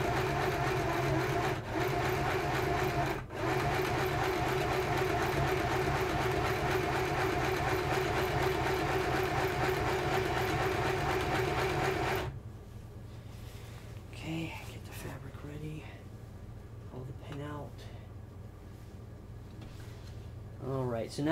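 A home sewing machine stitches fabric for a Halloween costume, its steady mechanical whir running loud and continuous for about twelve seconds, then cutting off to quieter room sound with a voice speaking.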